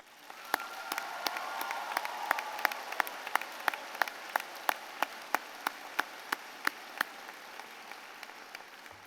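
A graduation audience applauds teachers at a high school ceremony, a steady wash of many hands clapping across the whole stretch, with sharp, regular loud claps standing out above the crowd noise, fairly distant and without talk.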